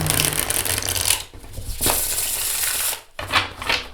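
A tarot deck printed on linen cardstock is shuffled by hand, with dense papery riffling and flicking in several bursts and short gaps between them, close and fairly loud.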